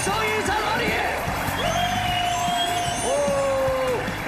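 A studio audience at a Chinese televised job-interview show whoops and yells in rising, drawn-out calls over a continuous crowd hubbub, loud and close.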